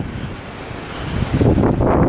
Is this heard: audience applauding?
no